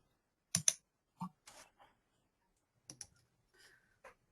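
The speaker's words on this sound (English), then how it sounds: "I can hear somebody typing in." Sparse, quiet clicks of keys being tapped on a computer keyboard in short irregular bursts, with silence between them.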